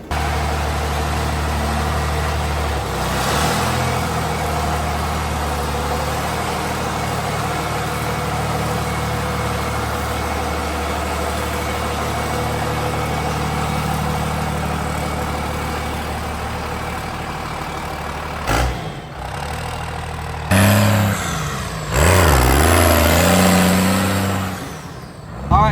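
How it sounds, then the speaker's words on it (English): A 40-inch lifted monster truck sits idling with a steady low engine drone and hiss, then near the end a burst of louder revving and rattling as the engine is worked, no voices over it. "So now we can start the truck and hope that it has heat."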